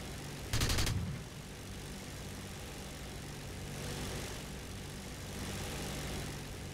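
Propeller aircraft engines drone steadily in War Thunder, with a sharp burst near the start and a continuous hum swelling slightly later.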